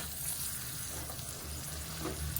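Soaked raw chana dal tipped into a hot pan for a curry, giving a steady, close frying sizzle with faint stirring scrapes and no talk.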